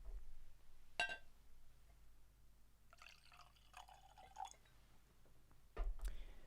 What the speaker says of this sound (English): let's have this pour.